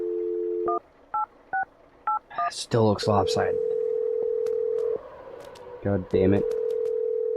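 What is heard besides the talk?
telephone number being dialed, touch-tone dialing and dial tone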